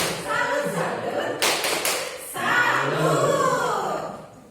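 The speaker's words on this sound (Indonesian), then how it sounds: "Kita kasih tepuk salut ke Bapak KS kita." Group of people doing a rhythmic 'tepuk salut' salute clap, short bursts of unison claps and slaps mixed with brief chanted voices, close and moderately loud.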